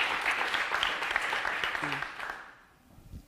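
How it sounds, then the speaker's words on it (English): Audience applause at a talk on gerrymandering and election maps, full clapping that fades out toward the end, with a brief voice partway through. "A round of applause for Mark for being such a good sport"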